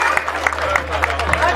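Applause and crowd noise at a school celebration of International Women's Day at a middle school in Sangalkam, a steady patter of clapping with light babble, fairly close and continuous.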